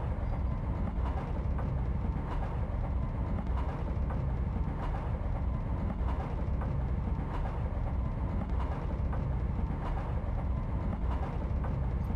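An FL9 diesel locomotive in Train Simulator 2016 on the Springfield Line, New Hampshire, runs steadily with a continuous low rumble, rail clatter and faint rhythmic clicks, with no speech.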